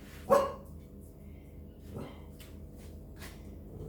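A pet parrot imitates a dog's bark indoors: one sharp, loud yelp-like bark followed by a softer second call and faint rustles, with quiet room noise between.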